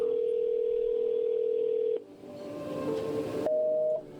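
A telephone tone rings out after dialing a neighbor's number: a steady, clear tone for about two seconds, then a brief noisy stretch, then a shorter high tone.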